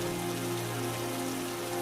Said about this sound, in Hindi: हल्की हल्की बारिश अभी भी हो रही थी।